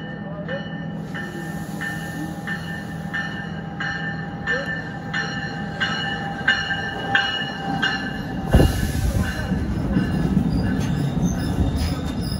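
A train rolls past at Union, New Jersey in the evening, with rhythmic clacking wheels, a squeal of metal, and a sudden loud clank midway, the rumble continuing and filling the space.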